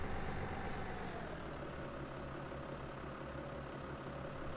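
A tractor engine idles with a steady low diesel drone in Farming Simulator 17, unchanging and constant throughout.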